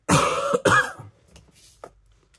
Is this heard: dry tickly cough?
yes